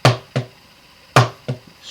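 Drumsticks striking a hard surface in uneven double strokes, strong then weak: four sharp, close taps in two pairs, each loud hit followed by a softer one.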